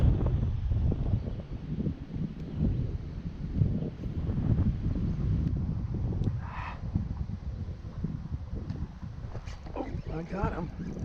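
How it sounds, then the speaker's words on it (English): Wind blows across an open lake while someone fishes from a kayak, producing a steady low rumble and buffeting on the microphone throughout, with faint splashes and small handling sounds on top. "the wind is moving me a couple miles an hour"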